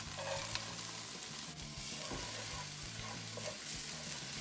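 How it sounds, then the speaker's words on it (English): Finely chopped shallot sizzling in a chicken skillet with leftover pan juices, stirred steadily with soft scraping and clacking over a continuous hiss of frying, close and fairly quiet. "We'll stir that shallot around just, you know, maybe 30 seconds just to kind of get it a little bit soft."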